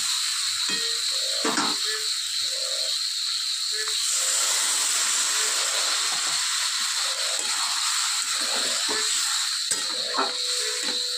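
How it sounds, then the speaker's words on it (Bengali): Water poured into a hot pan of pumpkin, potato and pointed gourd curry sets off a steady, loud hissing sizzle, with a few faint clinks and knocks close by. "এবার আমি পরিমাণ মতো জল ঢেলে দেব"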